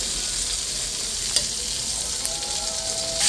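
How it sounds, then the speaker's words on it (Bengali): Eggplant slices rubbed with turmeric and salt fry in a little oil over high heat, giving a steady close sizzle with a few brief clinks of utensil against pan. "তেলের মধ্যে দিয়ে দিলাম বেগুন বেগুনটা একটু হালকা হলুদ লবণ মেখে নিয়েছি এখন আমি এটা নেড়ে ফেলে অল্প তেলেই ভেজে নেব"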